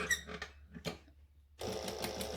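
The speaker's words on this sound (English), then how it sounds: "I will be serging these with an overlocker or a serger" A serger overlocker stitching fabric for Christmas shorts, with a few short clicks and stops before the machine runs steadily with a close, even whirring hum.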